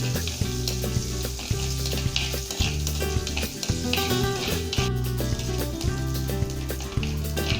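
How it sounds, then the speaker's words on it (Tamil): Country chicken fry being stirred in a pan: a continuous loud sizzle with a spoon scraping the pan, nearly masked by steady rhythmic background music, close, no talking. "அந்த வறுவலை தூக்கி நல்லா சுருளை சுருள கிண்ட வேண்டியதுதான்"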